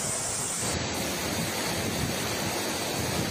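Violent typhoon winds and surf from Typhoon Chaba in Hong Kong and southern China make a steady, loud broadband roar with constant wind buffeting and crashing water.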